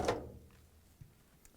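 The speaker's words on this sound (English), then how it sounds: "Let's open the door and remove the lint screen." A lint screen slides out of a Whirlpool dryer's door opening with one quick, soft scraping rush at the start, then two small faint clicks in near-silence.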